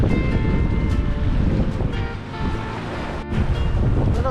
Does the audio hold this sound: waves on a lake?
yes